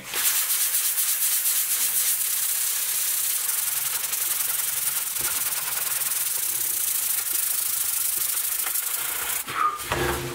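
Sandpaper rubs steadily over the wooden body of a PRS-style DIY guitar kit, a close, continuous loud rasping hiss with brief pauses near the end and no talking.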